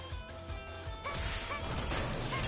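Enemy forces are smashed in Hyrule Warriors in a quick run of crashing, thwacking hits layered over game music, moderately loud and continuous with no talk.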